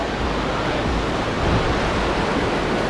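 The Kern River rushing steadily in the High Sierra, a dense, continuous broadband roar of flowing water close by with no break, heard alone without voices.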